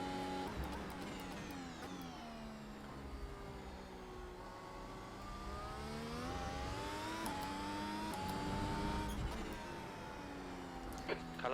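Race car engine in iRacing's Grand Prix Series at Phillip Island, a high, steady whine climbing through the revs with smooth gear changes, up into seventh, under continuous loud engine drone.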